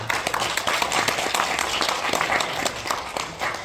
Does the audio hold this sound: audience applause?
yes